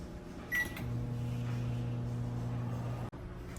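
A microwave oven hums steadily while softening a bowl of butter, the drone starting after a brief click and stopping abruptly with a sharp clunk near the end, no voices present.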